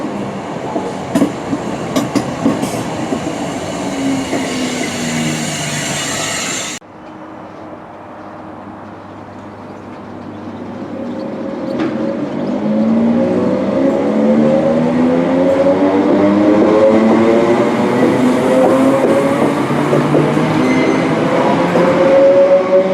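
A train moves through Partick Station in Glasgow, first with a rumbling, clattering passage that cuts off abruptly, then with a rising whine and steady rolling noise as it speeds up.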